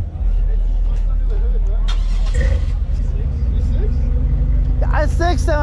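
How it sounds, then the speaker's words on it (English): A car fitted with a Flowmaster 40 series exhaust revs at a car show, its deep, throaty rumble steady and close throughout. A brief rise comes near the middle, and voices are heard near the end. "I'll rev it again if you want to get"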